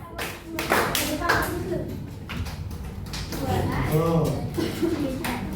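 In a fourth-grade classroom, children clap in counted bursts for a clapping game while a teacher calls out instructions, producing sharp grouped hand claps between spoken cues.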